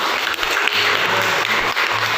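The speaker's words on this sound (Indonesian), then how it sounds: "tepuk tangan untuk kelompok 5" Classmates applaud a student group in a classroom, a dense and loud wash of clapping that holds steady from start to finish without talk.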